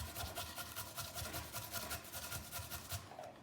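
Fresh ginger grated on a cheap old microplane, a rapid, steady rasping scrape in quick repeated strokes, close and fairly quiet, with no talking.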